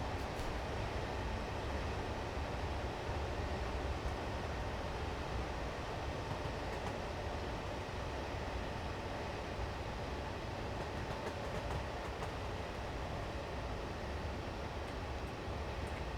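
HST train running in Train Sim Classic, a steady, continuous rumble of engine and rolling wheels with constant level throughout and no talk.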